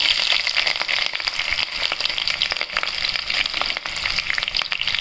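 Green chillies hit hot ghee alongside black pepper and cloves, giving a close, steady, dense sizzle and crackle with many sharp pops throughout and no voices.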